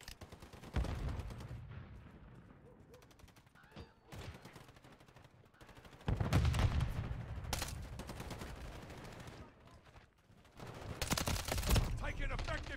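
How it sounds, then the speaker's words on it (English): Gunfire in the Call of Duty MW3 video game, Hardpoint mode on the Stash House map: bursts of shots in dense clusters, with loud volleys near the start, middle and end and quieter stretches between, with game voice callouts over them. "Taking effective fire."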